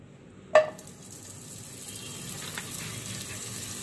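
Butter melting in a pan for macaroni chaat: a sharp clack as it hits the hot metal, then a steady, quiet sizzle that continues to the end.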